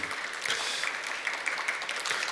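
Audience applause at a game development talk, a steady wash of many hands clapping for a couple of seconds with no voices on top.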